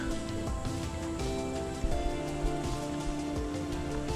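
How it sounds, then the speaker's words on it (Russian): Steady, dense rain pattering on a surface by the Chusovaya River, a constant close wash of drops with a few louder splashes, no voices. "вот такой дождь мы точно не заказывали"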